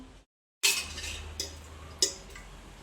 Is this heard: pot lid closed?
yes